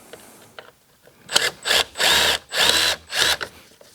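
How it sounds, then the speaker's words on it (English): A Makita 12 volt cordless ratchet whirs in four short bursts, each under a second, backing out T30 bolts on a 2009 Audi A4 2.0T intake manifold, preceded by a few faint clicks. "first time I ever used this ratchet. It's not too bad. That's the new Makita 12 volt, 1/4 inch and 3/8 inch drive"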